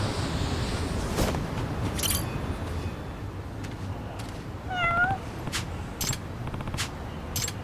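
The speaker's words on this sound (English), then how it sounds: "This group of cats actually right here." A group of cats meowing in the video game Lost Judgment, with one clear, drawn-out meow standing out among scattered clicks and taps over a steady low background hum.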